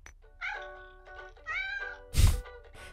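Cats meow in a cat video shown within The Owl House cartoon: several clear, tonal meows in a row, followed by a short dull thump, with nothing else in the background.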